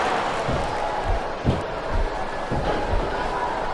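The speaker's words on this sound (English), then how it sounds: "This capacity crowd is making their opinions known tonight." Capacity arena crowd in the wrestling video game WWE SmackDown vs Raw 2007 keeps up a constant roar, with a few dull thuds from the ring landing at intervals beneath it.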